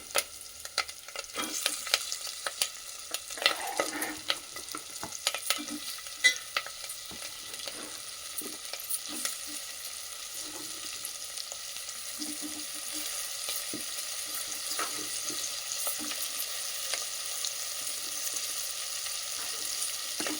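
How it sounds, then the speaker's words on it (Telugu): Okra frying with softened onions in a pan gives a continuous, fairly quiet sizzle, broken by occasional spatula scrapes and taps, most frequent early on and steady throughout. "ఉల్లిగడ్డ మగ్గిన తర్వాత ఇప్పుడు బెండకాయలు వేసుకున్నామండి."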